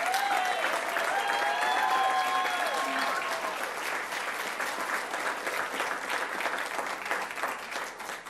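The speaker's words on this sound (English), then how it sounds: "Let's give him a round of applause." A crowd at a Palm Beach County recognition event applauds an award winner with sustained, even clapping throughout, and a faint voice or tone drifts through the first few seconds.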